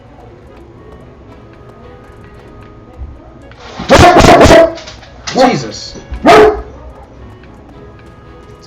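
A guard dog in the video game Fire Emblem Three Houses barks in a few loud, close bursts, with a short exclamation from a player over the first bark and quiet background before it.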